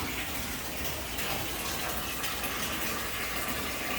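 Water gushes steadily into an IBC tote being converted into a fish stock tank, fed by a pump on a variable-speed controller. The rushing, splashing fill is loud, close and unbroken.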